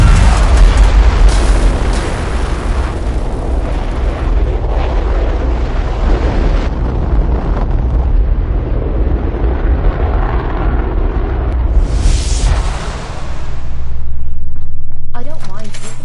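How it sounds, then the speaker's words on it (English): Engine test firing in the Fallout 4 video game: a loud, sustained, rumbling roar that holds steady for several seconds, then tapers off with a whooshing swell near the end. "Engine firing."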